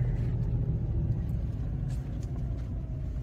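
A Hemi-powered Jeep engine is held at a steady raised rev, around three to four thousand RPM, giving a loud, continuous low rumble close by with slight wavering in pitch.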